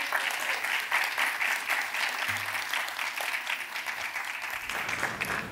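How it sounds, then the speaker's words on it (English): Applause at a school board meeting for the student representatives, a sustained round of clapping from the room that fills the whole stretch at an even level. "Let's give a round of applause to our student reps"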